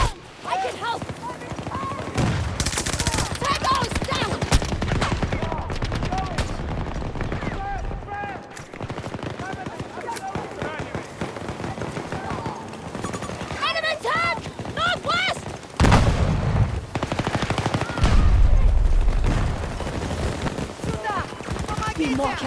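Hostile gunfire in Falck MP9 gameplay: repeated bursts of rapid automatic fire and single loud shots, some close and harsh, under frequent shouted voices and radio-style callouts.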